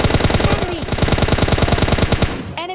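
Rapid automatic gunfire from an M416 in PUBG Mobile Lite, a loud close burst of evenly spaced shots over nearly three seconds, ending with a brief metallic game sound.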